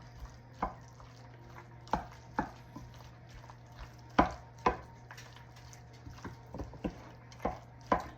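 Ranch dressing being stirred into a chicken noodle casserole, heard as scattered soft scrapes and taps of a spoon against the dish, spaced irregularly over a low steady hum, with no talking.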